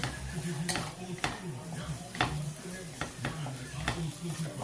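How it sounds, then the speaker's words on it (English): Vegetables and onions sizzle in a hot pan while a utensil scrapes and taps against the metal every second or so, stir-frying; a voice speaks faintly underneath. "The key to stir frying anything is movement."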